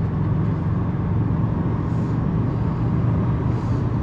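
A Subaru WRX STI WR1 with a Tomei exhaust and its silencer fitted pulls hard in sixth gear at highway speed. A steady, loud engine drone blends with road and wind roar, with no talking.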